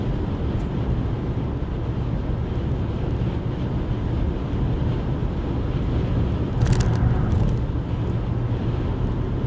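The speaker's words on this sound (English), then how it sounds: "It's very windy today." Constant low wind rumble battering the microphone during a drive near the George Washington Bridge, broad and steady throughout, with a brief brighter rattle near the end.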